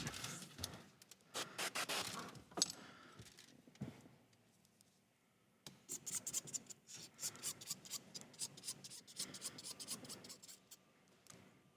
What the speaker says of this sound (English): we're taking a 1-inch razor blade and we're lightly scraping over the entire surface of the windshield